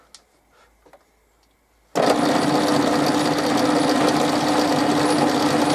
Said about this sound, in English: Just use some sandpaper